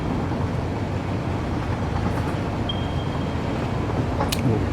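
A train in Satisfactory rolls along its rails with a continuous low rumble and rolling drone, steady and fairly loud, with a faint thin whine and a brief higher clank near the end.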